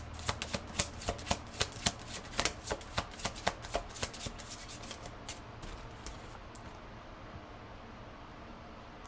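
Tarot cards being shuffled up close, a quick run of crisp riffling flicks that slows and thins out into a soft, steady rustle.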